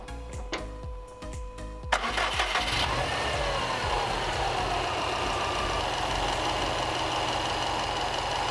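A 2013 Subaru WRX STI with a suspected blown head gasket starts and settles into a loud, steady idle with a rough, even rumble after a few clicks and ticks.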